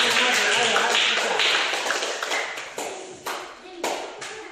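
Students clap their hands together in a classroom physical education lesson, a dense burst of many claps that thins into scattered, sharper individual claps near the end, with some voices mixed in.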